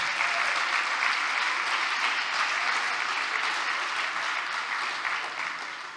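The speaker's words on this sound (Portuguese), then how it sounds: "Pode dar uma salva de palmas" Church congregation applause, a dense, steady wash of many hands clapping close by that holds for several seconds before gradually fading, with no voices over it.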